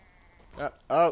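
In the video game Super Mario Odyssey, two short sheep bleats, the second louder and longer, with a brief exclamation from a person between them.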